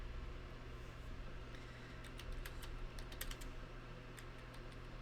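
Soft, scattered clicks of a gamer keyboard being typed on, faint against a steady low hum, with no one speaking.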